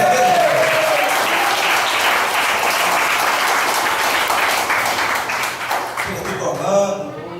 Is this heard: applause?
yes